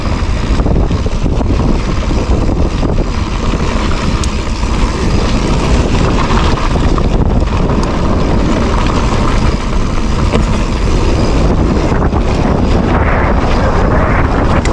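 Strong wind buffets the microphone outdoors on a trail, a constant loud rumbling roar that masks everything else for the whole stretch, with no voices heard.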